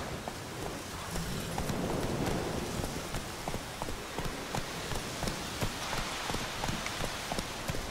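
Horse hooves clip-clop in a steady rhythm while riding through The Witcher 3 game world, close and continuous over a soft rain-like hiss.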